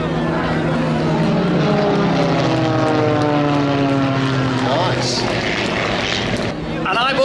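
Propeller aerobatic aircraft of the Global Stars team doing a break manoeuvre at the Scottish International Airshow, a loud sustained engine drone with shifting pitch sweeps, an announcer talking over it throughout.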